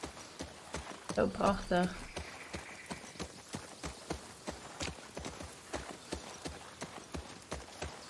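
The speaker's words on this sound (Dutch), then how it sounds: "Rijden op een paardje is super eng." Steady clip-clop of a horse's hooves while riding in The Last of Us Part II, a regular trotting rhythm throughout, with a person talking briefly over it.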